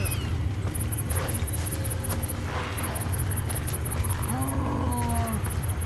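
A Snowblood wolf in the prehistoric game Far Cry Primal lets out rough growls and a rising, whining snarl near the end, heard over a constant low rumbling game soundscape.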